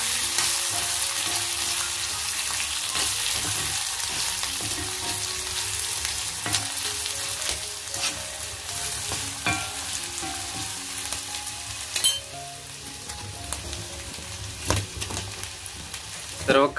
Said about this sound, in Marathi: आता फोडणी द्यायला घेतोय